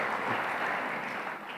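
An audience in a church service applauds together, a dense, even wash of clapping that stays loud for the whole moment.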